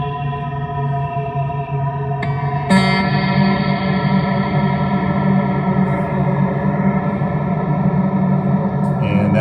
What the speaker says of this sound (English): That's a lot of feedback.